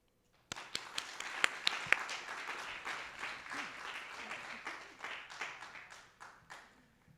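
An audience at a graduate lecture series applauds to welcome lecturer Rashawn Griffin, a steady patter of many hands starting abruptly, moderately distant and tapering off toward the end.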